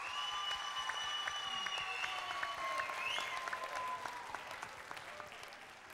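Sustained audience applause fills a concert hall during a Popstar singing competition show, dense steady clapping from a large crowd with a held sung or instrumental tone ringing over it, gradually thinning toward the end.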